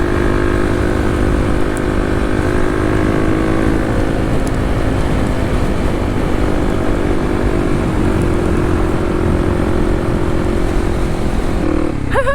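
A Kawasaki KLX dual sport motorcycle cruises along with a steady, loud engine drone and wind rush, the engine pitch shifting slightly partway through, with a brief clatter at the end.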